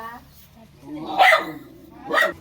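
A dog barks in a village setting, two sharp barks about a second apart, fairly close, with a low voice murmuring underneath.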